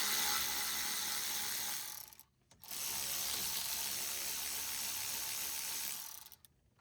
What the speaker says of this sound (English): I'm going to use my electric ratchet to speed up the removal process